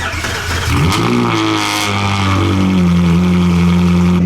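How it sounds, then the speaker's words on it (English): A Ferrari 458 engine cold starts, cranking and firing, revving up with a sharp snarl and then settling into a loud, steady high idle close by. "we are going to get a cold start of the 458."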